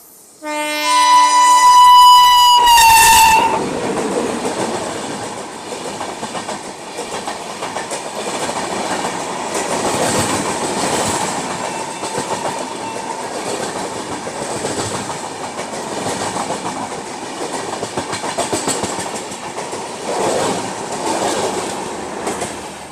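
A Pune Duronto AC express train pulls away: a loud horn blast at the start gives way to a steady rolling rumble and wheel clatter that carry on throughout, with no voices.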